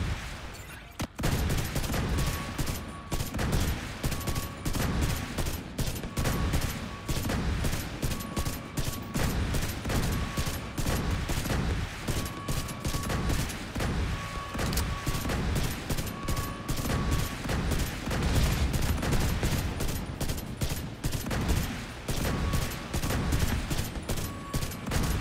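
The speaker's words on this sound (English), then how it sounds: "Missile turrets activating." Missile turrets firing in The Division 2 video game during the Dark Hours raid, a dense, relentless barrage of loud rapid shots and bursts with a short beeping tone repeating over the gunfire.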